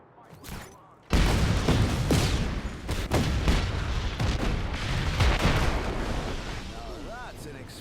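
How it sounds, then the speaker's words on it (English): A video game explosion blasts in with a sudden loud boom, then a long rumbling roar full of crackling bursts and debris that slowly fades. A voice talks faintly underneath. "Now that's an explosion. Balanced smoke plumage and excellent blaze to boom ratio."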